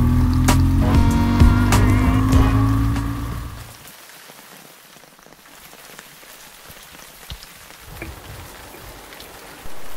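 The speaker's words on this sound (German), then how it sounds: "Zu meinem Pech regnet es auch in Mecklenburg-Vorpommern in einer Tour durch." Rain falling during a motorcycle tour in Mecklenburg-Vorpommern, a steady wash of drops on surfaces; a louder tonal rumble fades out after the first few seconds, leaving soft, even rainfall.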